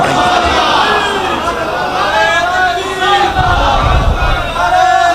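At a religious gathering, a large crowd loudly chants slogans in unison, with voices rising and falling in rhythmic waves alongside background hubbub.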